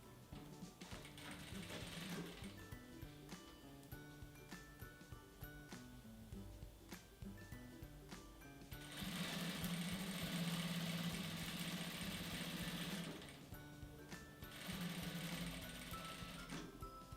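A sewing machine stitches a bonded fabric lining onto a phone accessory holder, humming in a close, steady mechanical rhythm with brief changes in speed and a louder burst of stitching in the middle and again near the end.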